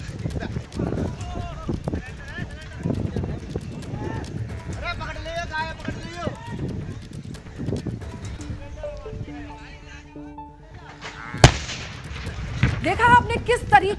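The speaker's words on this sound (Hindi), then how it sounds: "ये झुग्गी में रखा सिलेंडर था, किस तरीके से ब्लास्ट हुआ आप जरा देखिए और सुनिए स्क्रीन पर।" A gas cylinder stored in a slum hut explodes in news footage. A single sharp, loud blast cuts through continuous crowd commotion, shouting and a person talking, and the noise stays chaotic afterward.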